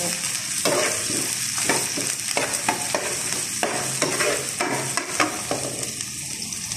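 Onion and garlic sauté in a pan for pechay with sardines, a close, steady sizzle broken by repeated scraping stirs of a utensil, with no voices.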